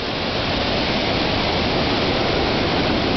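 Dense, steady rushing water fills the clip without a break, a loud broadband wash of Trestle Creek heard up close from above.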